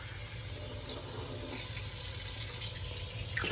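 Tap water running steadily into cans for a sugo, a continuous faint rushing stream with a low hum underneath, no voices.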